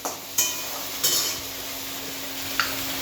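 Vegetables fry in a pan, a constant soft sizzle broken by three sharp clanks of a spatula stirring against the metal, with no voices.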